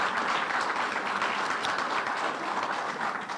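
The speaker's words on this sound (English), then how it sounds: "So he deserves a big round of applause again" Audience applause for a donor at a school capital campaign kickoff event: a full, even burst of clapping from a gathered crowd that stays loud throughout the short stretch.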